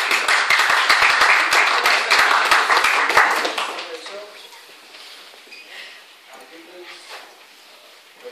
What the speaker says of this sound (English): Dre, a round of applause.